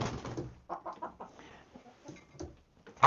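White chickens clucking close by, a series of short soft clucks and murmurs with quiet gaps, ending in a sharper sound.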